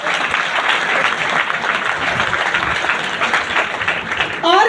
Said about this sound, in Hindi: जोरदार ताली होना चाहिए इसके लिए